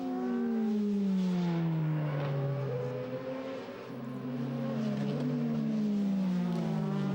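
A DTM race car engine at the Nürburgring in 2006 revs hard and climbs through its pitch as it leaves the pits, loud and sustained, with a brief dip midway as the wheels spin before it surges again.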